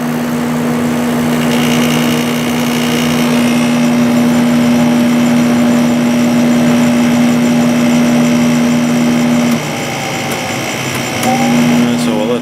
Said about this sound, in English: This has a Matsushita compressor, just like the Emerson Quiet Cool.